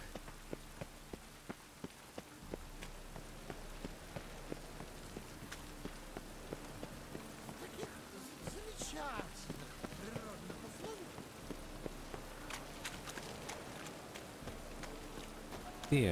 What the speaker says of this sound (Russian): Что-то дождь зачастил, по-моему, как-то в Ведьмаке опять.